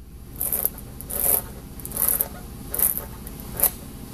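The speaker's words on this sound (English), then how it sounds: "Remove the spiral tool." Spiral probe tool being twisted and pulled out of an injury in a tire, five short rasping scrapes at a steady rhythm, close and moderately loud.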